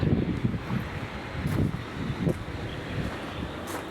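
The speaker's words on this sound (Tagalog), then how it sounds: "mahangin dito" Steady wind gusting and buffeting the microphone outdoors on Mount Makiling, a continuous rough roar with no voices.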